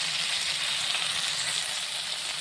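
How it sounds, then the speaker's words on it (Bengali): Fish cooks in spices in a hot pan for a Bengali fish curry, giving a steady, close hiss of frying that continues evenly with no talking. "সুন্দরভাবে মাছটা কষিয়ে নিলাম"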